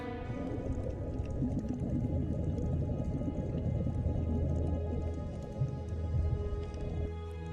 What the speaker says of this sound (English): I hear the sounds of the majestic whale beneath the ocean waves.